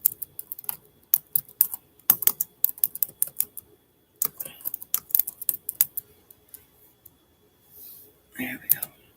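Close, crisp typing on a computer keyboard comes in quick bursts of key clicks with short pauses between them, and some quiet murmuring near the end.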